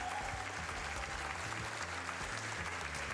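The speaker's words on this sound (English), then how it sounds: "Give yourselves a round of applause." Audience applause at a gaming marathon event, a dense, steady clapping from a crowd lasting the whole moment, heard at a modest level.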